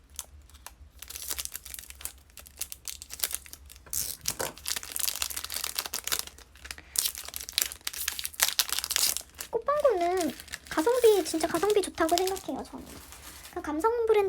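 Plastic sticker packs crinkle and tear open close by in a series of sharp rustles and rips, with someone talking over the later part.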